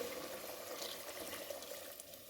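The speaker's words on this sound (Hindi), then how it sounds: "अब हम डालने लगे हैं इसमें पानी" Water pours steadily into a pan of browned tinda gosht, meat cooked with round gourds, a continuous close splashing stream with no talk.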